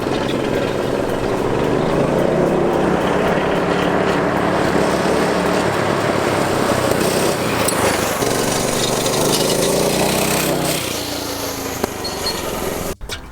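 Two barn-find mini bikes ride together with small engines running continuously, a buzzing, droning motor roar held steady and close, rising and falling slightly before cutting off at the end.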